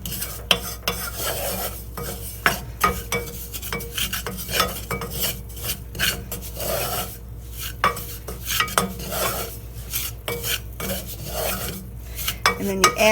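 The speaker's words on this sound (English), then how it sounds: "So you just stir this till it's smooth." Apple nut muffin batter stirred until smooth in a bowl, a continuous close scraping and swishing of a utensil against the bowl with soft rhythmic clicks, heard alone.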